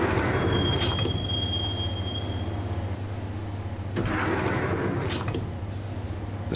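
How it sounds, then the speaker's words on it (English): Subway train from Max Payne rolling along the tracks, a steady low rumble of wheels with a high metallic squeal early on and clattering surges from the wheels, continuous and close throughout with no voices. "the train doors had already shut behind me, and I was in for the ride"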